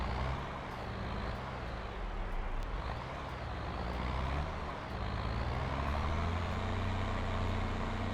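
Modded John Deere 2450 small tractor engine in Farming Simulator 22, a steady low diesel rumble idling and working continuously at moderate level, with no talk over it.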